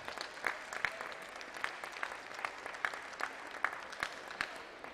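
Applause for youth semifinalists at a speed climbing world championship in Dallas: a thin, sparse patter of clapping from a modest crowd, with individual claps standing out and steady through the moment.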